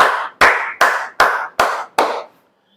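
One person claps six times in a slow, even rhythm, each loud close clap trailing off in a short echo before the next.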